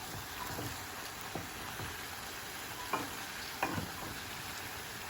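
Cauliflower and vegetables fry in a pan with a soft, steady sizzle, broken by a few short clinks and scrapes of stirring, quiet and close, with no talking.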